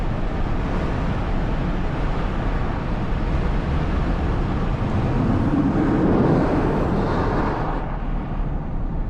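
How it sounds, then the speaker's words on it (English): Steady broadband wind roar fills the cabin of a Mercedes-AMG GLE 53 Coupe driving with its sunroof open, loud and continuous with a slight swell near the end and no talking. "we have more noise from the sunroof"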